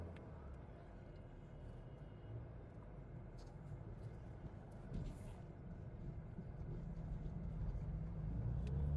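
A 2013 Honda City petrol/CNG sedan being driven, a steady low engine and road rumble filling the cabin and building slightly louder toward the end, with no talking.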